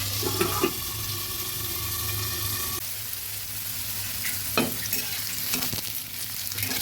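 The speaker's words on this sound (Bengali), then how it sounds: "আলুগুলো ভাজা হয়ে এসেছে, আমি এর মধ্যে কয়েকবার নেড়ে দিয়েছি" Potatoes fry in oil under a lid, a steady loud sizzle with a brief stirring clatter, then quieter hissing after a sharp drop and another short scrape later on.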